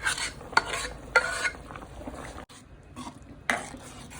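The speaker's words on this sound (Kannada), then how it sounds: "ಚೆನ್ನಾಗಿ ಮಿಕ್ಸ್ ಮಾಡ್ಕೊಳ್ಳಿ" Boiled rice and moong dal stirred together in a pot for pongal make soft, close scraping and squelching strokes in an irregular rhythm, with a few sharper spoon knocks against the vessel and no voice.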